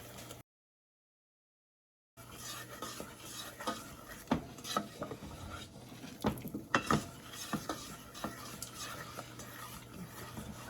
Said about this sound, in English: The roux is starting to foam, which is a good indicator that it is cooking the flour.